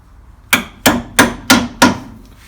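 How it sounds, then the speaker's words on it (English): A hammer gives five evenly spaced, sharp metallic taps, close and clear, fitting a bottom arm onto a classic Mini Clubman's suspension with no talk. "pop that through there, gentle tap with a hammer again."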